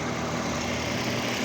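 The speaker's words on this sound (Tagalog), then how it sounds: "So mayroon tayong makina, umaandar yan." Older-model car engine idling during vacuum leak and fuel pump testing, a steady, even low hum with a constant drone, close and unbroken, no talk.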